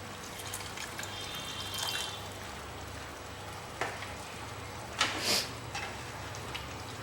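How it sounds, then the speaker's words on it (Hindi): Half a cup of water poured into a simmering Punjabi chicken curry in a pan, a soft continuous splashing and hiss with a couple of brief louder splashes, no talk over it. "आधा कप पानी डालूंगा।"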